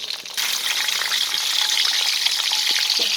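Chili sambal for eggplant sambalado fries in a pan with a loud, continuous hissing sizzle after a brief quieter start, close and steady with occasional stirring clinks.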